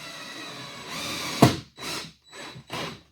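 A cordless power drill drives screws into a deck baluster: a sharp clack, then three short whirring bursts with pauses between them, close by and without talk.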